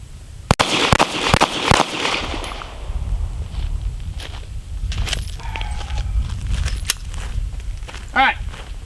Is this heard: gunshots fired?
yes